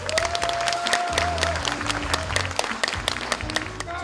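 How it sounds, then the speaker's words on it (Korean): A crowd at a party's New Year gathering in Chungnam and Sejong gives sustained, dense applause, with steady clapping throughout and tonal sound from the venue's sound system underneath. "환영의 박수 부탁드리겠습니다."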